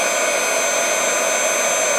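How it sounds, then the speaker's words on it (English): A hair dryer blows hot air onto a dried-up gel liner, making a steady, close, loud whirring hiss that runs without a break. "you can achieve this with a hair dryer"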